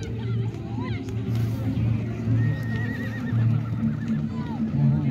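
Racehorses running a 25 km long-distance horse race on a village racetrack, with neighs and hoofbeats set in a steady crowd hubbub while a commentator talks throughout.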